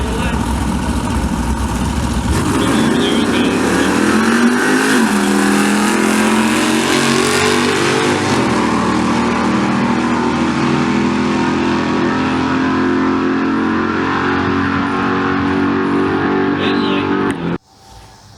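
A twin-turbo Chevrolet S10 makes a drag racing pass at Street Car Takeover in Denver, its engine roaring loud and continuous with a rising pitch before cutting off abruptly at the end.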